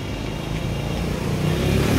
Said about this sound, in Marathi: गाड्यांचा आवाज